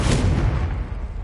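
A Confringo fire spell blasts in the Hogwarts Legacy game, a loud booming explosion that opens sharply and rumbles on in a dense, noisy decay through the whole moment.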